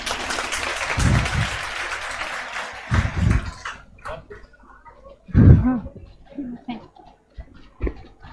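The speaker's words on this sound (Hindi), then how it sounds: "एक बार जोर से ताली हो जाना चाहिए" A room of coaching-class students claps loudly for a few seconds, the rustling burst fading out, after which scattered voices and low thumps carry on in the quieter remainder.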